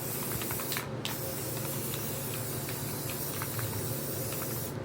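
Spray paint hisses steadily and close from an aerosol can over a planet stencil, one continuous broadband spray lasting throughout with a brief pause near the start.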